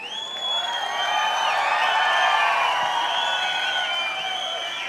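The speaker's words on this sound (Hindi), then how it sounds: "तालियां और आवाज़ तो ऐसी आनी चाहिए कि पूरा ये स्टेडियम हिलना चाहिए मेरे दोस्त" A large stadium crowd in Pune cheers and applauds at a motivational success event, a dense, sustained roar with whoops and whistles swelling loudly over several seconds.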